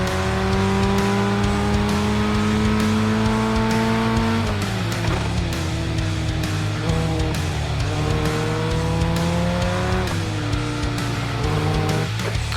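Ray FF1600 race cars at Winton Motor Raceway in iRacing, engines screaming loud and close as pitch climbs through the gears, drops on shifts and braking, with tyres squealing in the corners and no talking.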